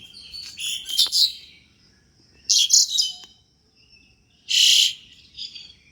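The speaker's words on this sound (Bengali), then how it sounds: "তো পাখি ডাকছে, কি সুন্দর দেখাই তোমাদের পাখির আওয়াজটা।" Birds on a house rooftop at early morning call in short, bright chirping bursts separated by quiet gaps, fairly close and clear over faint insect-like background hiss.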